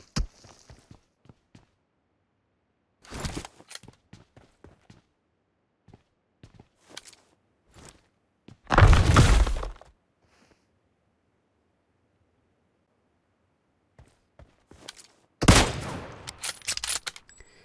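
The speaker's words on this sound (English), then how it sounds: "and then I get some surprise shots" Gunshots from the video game PUBG Mobile: scattered single cracks and short bursts of fire, with heavier volleys near the middle and near the end. Quiet gaps separate the shots.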